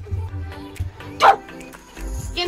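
A dog barking in the video game Roblox: a few short barks and yips, one sharper and louder, mixed with game sounds while players talk.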